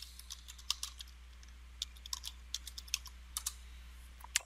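Rapid, light clicks of a computer keyboard as a password is typed, irregular taps near the mic in an otherwise quiet room.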